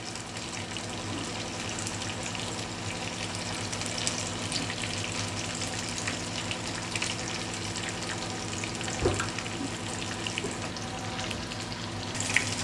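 Fish fingers fry steadily in hot oil over a medium flame, a continuous dense sizzle and crackle that runs alone throughout, with a few brief louder pops near the end.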